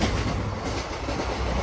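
Tirupati to Bilaspur weekly express train running at speed, with a loud, dense rumble and rhythmic clickety-clack of wheels on rails heard close from on board, without talk.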